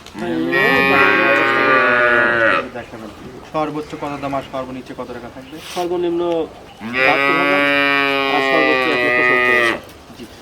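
Holstein Friesian cattle at a cattle market give two long, loud, close moos, with people talking in between.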